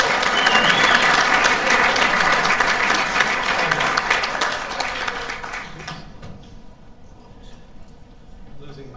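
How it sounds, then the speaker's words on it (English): Audience applause at a Rotary club meeting in Coronado, a loud dense burst of many hands clapping that gradually thins and fades toward the end. "give them another big round of applause"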